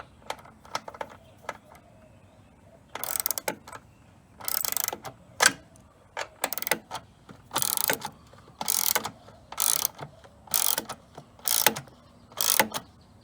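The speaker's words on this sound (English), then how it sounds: "I just gotta retighten up these bolts right here, just so the baffle will hold in its place." A ratchet tightens bolts holding a plastic baffle on a Craftsman EZ Walk front-wheel-drive walk-behind lawn mower, giving bursts of rapid close clicking in repeated strokes separated by short pauses, with faint handling noises between.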